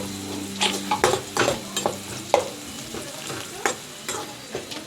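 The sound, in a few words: onions and chilies frying in oil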